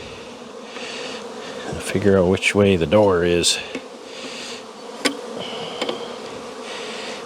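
Honey bees buzz in a steady swarm drone during hive work, with a person speaking briefly over the humming in the middle.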